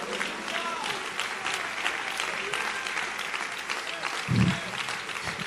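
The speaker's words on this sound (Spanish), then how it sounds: "Dele ese aplauso fuerte a la gloria." A church congregation claps loudly and continuously in a large room, a dense, even roar of hands filling the whole stretch. A single low thump sounds near the end.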